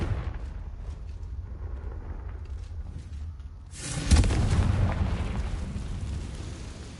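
A Confringo fire spell explodes in the video game Hogwarts Legacy, a sudden loud burst midway that swells into a rumbling, fiery roar and slowly fades over a low game background.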